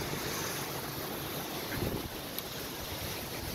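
Wind blows hard outdoors by the ocean, buffeting the microphone as a constant loud rushing roar with brief gusty thumps and no voices.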